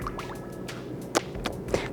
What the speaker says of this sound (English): first we're going to pour half the butter into the bowl